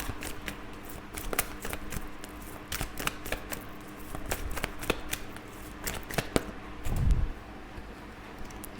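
Tarot cards shuffled and drawn from the deck during a reading: a steady soft papery riffle with repeated crisp card snaps and flicks, one fuller slap near the end, close and fairly quiet, with no talking.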